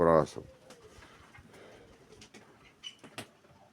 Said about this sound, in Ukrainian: Такі голубків я держу.